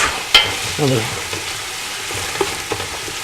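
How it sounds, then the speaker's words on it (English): Onions and garlic sizzling in a pan alongside Italian meatballs and sausage, a steady close crackle with a few sharp clatters and a brief scrape as the food is stirred. "Now that the onions and garlic are really sizzling now"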